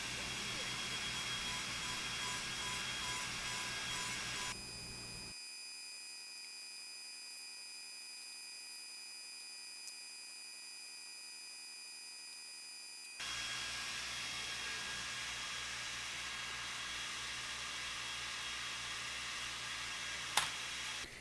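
A Creality Falcon2 40 W laser engraver runs a job with a steady high fan-like whir and hiss, a quieter stretch in the middle, then the louder broadband hum resumes with a brief click near the end.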